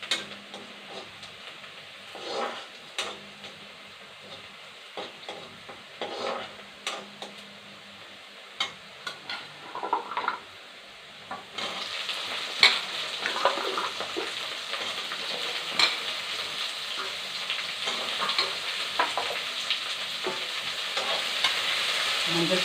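Chopped yellow pumpkin and onion sautéing in a pan, the sizzle swelling louder partway through, with frequent clinks and scrapes of a spoon stirring.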